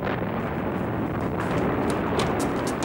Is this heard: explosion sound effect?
yes